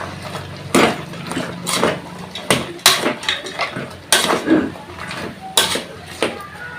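Tomato pulp goes into a pot of Konaseema-style goat head curry, with a spoon clanking and scraping loudly against the pot in an uneven series of close metallic knocks.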